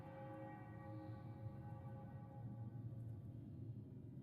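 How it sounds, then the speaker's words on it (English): A bell rings in the video game Murdered: Soul Suspect, a faint sustained tone whose pitch lingers over a low steady background hum with no voices. "there seems to be a bell ringing"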